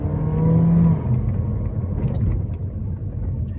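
Turbocharged 1.3-liter engine of a GAC GS3 pulling up a steep incline, a steady loud in-cabin rumble and whir with a brief rise in revs early on.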